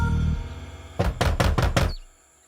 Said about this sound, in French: le grand méchant loup à la porte du plus jeune vint frapper quelques coups